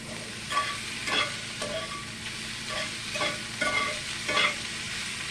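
Fresh okra seasoned with Tony's seasoning frying in a pan, sizzling steadily while a spoon stirs it in several distinct scraping strokes, close and alone without speech.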